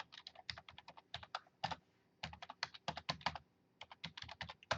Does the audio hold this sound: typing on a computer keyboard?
yes